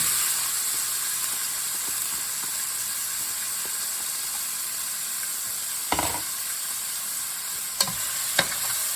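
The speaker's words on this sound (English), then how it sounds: "And to that, I'm going to add the onions." About a medium-sized chopped onion cooking in a pan, giving a steady hissing sizzle throughout with a few short clinks and scrapes near the end.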